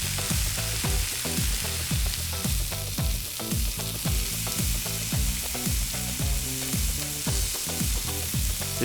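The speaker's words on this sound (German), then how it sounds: "Freunde, wir frittieren." Deep-frying in a fryer in the Chef Life restaurant simulator game: dense, continuous sizzling and bubbling of hot oil, loud and close, with rhythmic stirring pulses throughout.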